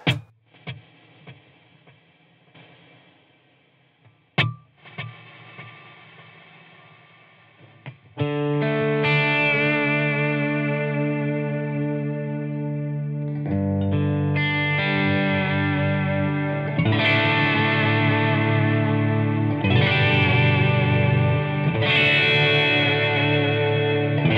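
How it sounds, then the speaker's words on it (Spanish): Electric guitar with soft overdrive, delay and reverb, for worship music: a few sparse notes at first, then sustained chords ringing out in long reverberant washes, loud and close with no talking. "Y voy a agregarle una reverb."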